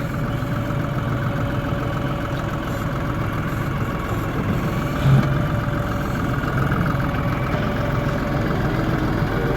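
A tractor engine idles steadily nearby on a porch during basement waterproofing work, a continuous low rumbling drone that holds even throughout with no talk.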